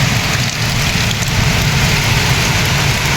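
Heavy storm rain pouring off a village roof, a dense, steady roar of falling water that stays loud and unbroken throughout.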